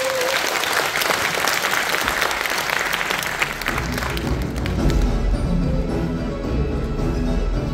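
A lecture audience gives Professor Song In-gyu a sustained round of applause after his blockchain talk, steady dense clapping filling the room at even loudness throughout, with a faint voice near the start.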